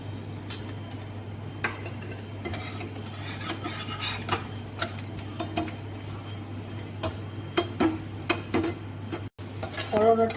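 Bitter gourd frying in a little oil in a pan, with soft sizzling under scraping and stirring of a utensil against the pan, plus a steady low hum throughout.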